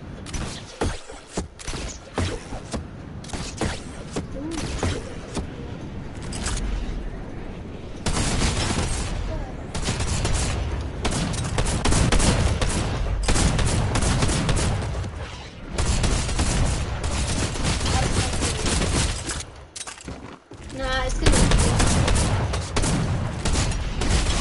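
Drum shotgun blasts and other weapon fire in a Fortnite one-on-one match, dense continuous volleys and booms over a long stretch, with voices talking throughout.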